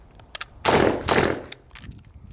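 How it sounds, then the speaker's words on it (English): AR rifle being cleared of a stovepipe malfunction: the magazine is seated, then the charging handle is racked with two loud, sharp metallic clacks, set among a few quicker clicks and handling taps, close to the microphone with no talking. "magazine in, rack it,"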